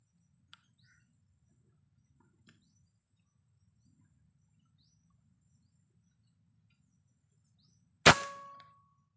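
A single sharp air rifle shot cracks near the end with a bright metallic ring, fired at about 30 meters outdoors, after a long stretch of faint outdoor ambience and a few distant chirps.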